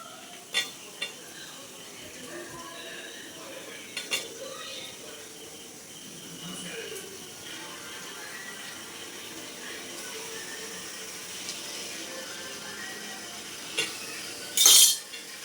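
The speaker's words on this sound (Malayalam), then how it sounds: "ഇനി തക്കാളി ഇട്ട് വഴറ്റാൻ പോകാം." Tomato sautéing with softened onion in a pan for chicken curry gives a faint, low sizzle, with occasional stirring scrapes and a sharp clink near the end. No one speaks.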